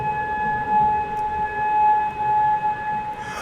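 A civil defense siren sounds continuously in Kuwait, a steady wailing tone that holds level throughout with no speech.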